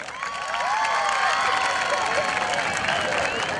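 Audience applause with cheering for a candidate at a beauty pageant electing a local queen in Salango parish, steady and loud throughout with crowd noise and whistling mixed in.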